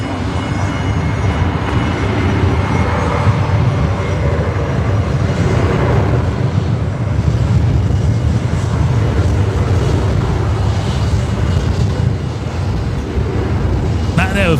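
A Qatar Airways airliner rolls along taxiway Zulu at Brisbane Airport at night, a loud, steady engine roar close by that holds without a break from start to end.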